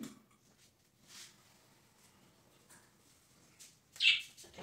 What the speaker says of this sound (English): Let me show you my birds.